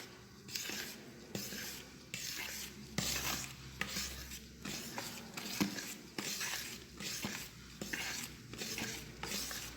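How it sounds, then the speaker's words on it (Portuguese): Flour being folded by hand into cake batter, soft rhythmic scraping and swishing strokes of a utensil through thick mixture in a bowl, repeated at an even unhurried pace, close and quiet. "a gente bota o trigo aos poucos, nunca mexer muito rápido, sempre com leveza, de baixo para cima"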